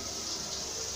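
Kitchen tap opened and running steadily, a continuous close, moderately loud gush of water pouring from the faucet with no talk over it.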